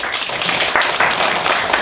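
A crowd at a history talk concert claps together, dense overlapping applause filling the room at a steady, moderate loudness.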